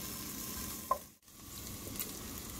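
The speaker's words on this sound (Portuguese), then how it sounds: "nós vamos colocar 150 gramas de bacon e a gente vai deixar fritando com a própria gordura do bacon até começar a dourar" Bacon, 150 grams, frying in its own rendered fat in a pan, giving a steady soft sizzle with a brief louder pop partway through and a short dip before the frying noise resumes.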